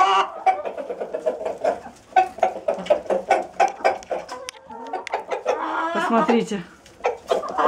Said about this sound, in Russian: Посмотрите, как петушок зазывает курочек